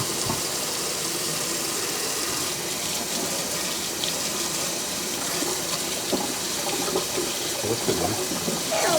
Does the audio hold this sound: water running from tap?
yes